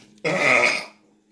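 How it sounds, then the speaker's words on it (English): One loud, raspy burp erupts abruptly, held for most of a second before fading out, close and alone with no talking. "Loud ass burps."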